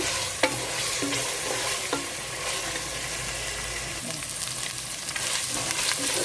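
Whole spices and ginger fry in hot oil in a pan for a home-style biryani, giving a steady close sizzle with occasional stirring scrapes and clinks of a spoon, no voices.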